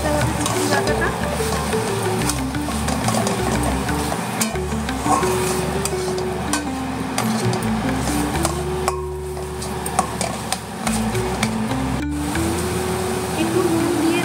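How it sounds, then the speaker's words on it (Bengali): Ground prawn paste with spices is stir-fried for a prawn and pointed gourd curry, giving a continuous sizzle with occasional utensil clinks under a tonal, voice-like background. "ভালো করে ঘেটে ঘেটে মশলাটা মিশিয়ে ভালো করে কষাতে হবে চিংড়ি বাটাটা।"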